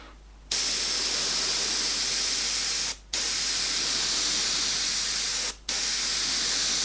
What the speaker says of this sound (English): I'm going to do a light mist first.